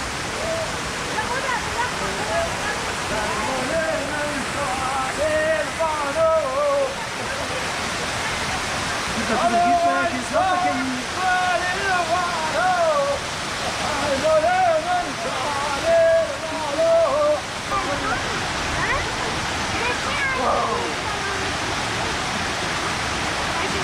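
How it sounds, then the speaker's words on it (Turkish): Kavalık waterfall in Hakkari roars as a constant, dense rush of falling water, while people talk intermittently over it nearby. "Hakkari'de bulunan Kavalık Şelalesi'ndeyiz."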